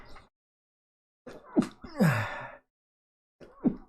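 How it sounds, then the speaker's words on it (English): A man sneezes during a livestream, a sharp burst with a gasping intake and a breathy, moaning voiced edge, followed by another short vocal sound, close to the microphone. "that's the second time I sneezed since I've been on stream"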